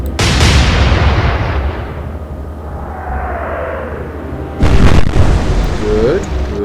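Naval gunfire from a warship in the video game Atlantic Fleet, two heavy booming salvos, the first decaying into a long rolling rumble before the second loud blast, with a voice talking over them.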